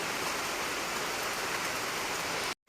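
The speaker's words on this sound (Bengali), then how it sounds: "বেশ ভালোই জোরে বৃষ্টি হচ্ছে" Heavy rain pouring down outdoors, a dense, even hiss of falling water close by that runs steadily and then cuts off abruptly near the end.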